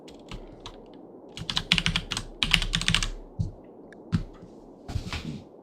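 Clattering computer keyboard typing in uneven bursts, close and fairly loud, with quiet gaps and a low thumping undertone, nobody speaking.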